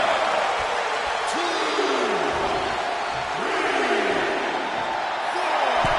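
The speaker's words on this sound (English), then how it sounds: "Randy Orton feeding off this electric crowd" Electric arena crowd at a wrestling match cheers in a loud, sustained roar while a commentator calls the action over it, with rising and falling swells of voices throughout.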